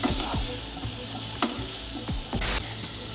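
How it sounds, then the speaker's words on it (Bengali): Drumstick (moringa) pods and potatoes sautéing in a pan for a summer sajne data recipe, a steady close sizzle with several sharp scrapes and clacks of a spatula stirring through it, one brief louder hiss near the end. "এবার সজনে ডাঁটাগুলো আলুর সাথে বেশ কিছুক্ষণ একসাথে কষাতে থাকবো।"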